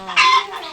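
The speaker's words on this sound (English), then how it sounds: "The sound of a hen." A single farm hen gives one short, close, clear cluck with no other sound around it.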